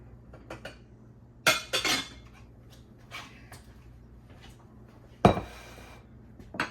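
Dishes and cutlery clink as a big salad bowl is pulled out in a home kitchen while a napa cabbage and romaine lettuce salad is being made. A few sharp, close clinks stand out against a quiet background, with a burst near the end.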